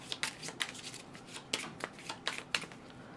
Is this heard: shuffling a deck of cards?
yes